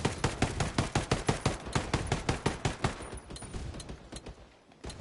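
Rapid bursts of automatic gunfire from an armoured personnel carrier training exercise, loud and close, a fast rhythmic string of shots that thins out and fades toward the end, with no talking.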